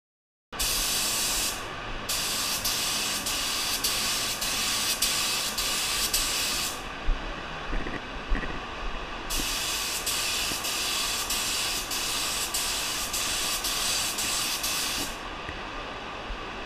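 A spray gun lays a first coat of clear over a Toyota Tundra during a full repaint, giving a loud, steady airy hiss in two long passes separated by a brief drop, with a faint background hum throughout.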